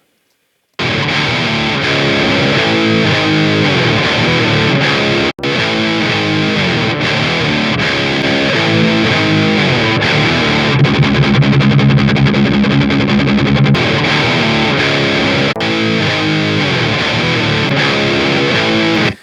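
An electric guitar plays loud, heavily distorted chords through an EQ boost that adds body. The riff is continuous and dense, with a brief break early on and a heavier low-mid section partway through. No voices are heard.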